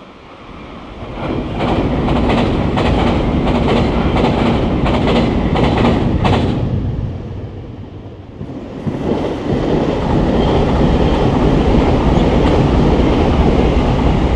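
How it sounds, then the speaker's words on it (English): A JR Kagoshima Line Limited Express Sonic train passes close by with a loud, steady rumble and rhythmic clicking of wheels over rail joints, briefly easing before the roar returns. "Limited Express Sonic."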